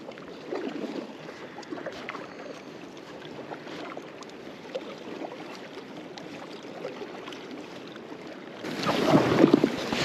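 A kayak paddled across cold Alaskan water toward a glacier gives soft, repeated paddle splashes and dripping amid light wind buffeting, with a louder rush of wind and water near the end.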